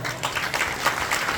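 Dense applause from a crowd at a Guru Purnima satsang in Dakor, a continuous wash of many hands clapping at an even loudness throughout.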